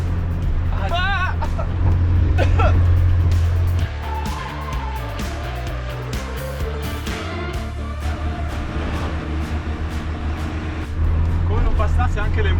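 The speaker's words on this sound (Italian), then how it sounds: "Le macchine ti sorpassano a 200 all'ora" Vehicles rush past on a road in Guinea, heard from inside a moving 4x4 camper, with loud engine drone and passing swells under talking voices.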